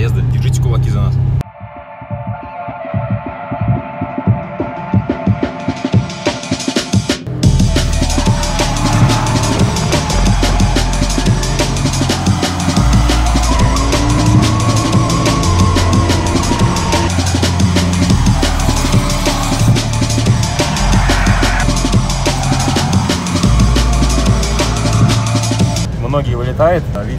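BMW E36 with a V8 engine, a drift car on track during practice, roaring loudly and continuously with rising and falling revs and tyre noise for the whole stretch, close and dominant with no talk.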